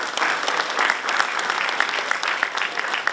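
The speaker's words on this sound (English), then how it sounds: "A huge applause for them." Applause from an audience at a university event honoring embassy guests, a dense, steady wash of many hands clapping at moderate distance, holding evenly throughout.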